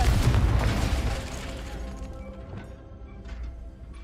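A Confringo blasting spell explodes in the video game Hogwarts Legacy with a loud, close boom and crashing debris that rumbles and fades over a few seconds.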